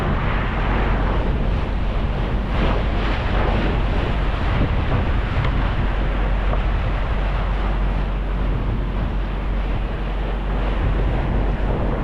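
A motorized Filipino bangka runs steadily on open sea at about 8 to 9 knots during a sea trial with a broken exhaust pipe. A constant loud engine drone and rushing wind and water fill the whole stretch without pause.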